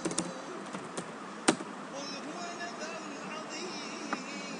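Typing on a computer keyboard while entering a value in calligraphy software, a few light, close clicks clustered at the start with a single later tap over a quiet room background.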